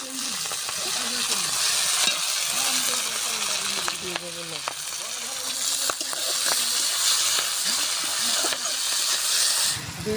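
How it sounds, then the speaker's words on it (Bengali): Green beans fry in a pan of hot oil for egg chowmein, sizzling and hissing steadily up close while being stirred; a faint voice murmurs underneath at times. "বিনসগুলো ভেজে নেব।"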